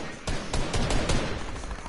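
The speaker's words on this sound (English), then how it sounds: "I hear gunshots." Bursts of video game gunfire, several sharp shots spaced across the moment, heard alongside a player's voice.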